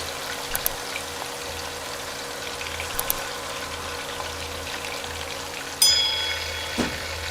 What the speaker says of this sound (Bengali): এক পাশ কিছুক্ষণ ভাজা হলে এরপর উল্টে অন্য পাশ ভাজব।